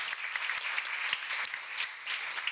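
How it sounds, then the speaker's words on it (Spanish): Audience applause at a legal seminar, a steady wash of many hands clapping at moderate distance, fairly even in loudness for the whole stretch. "Fuerte el aplauso, por favor."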